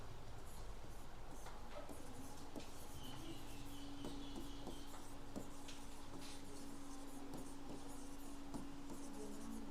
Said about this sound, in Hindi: जैसे मैं एक सेंटेंस लिखता हूँ